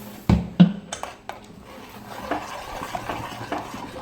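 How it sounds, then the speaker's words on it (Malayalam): Bread pudding mixture being stirred in a bowl, with a couple of sharp spoon knocks against the rim at the start and then a soft, continuous scraping swirl, close and moderately loud. "നന്നായി ഇളക്കണം കേട്ടോ."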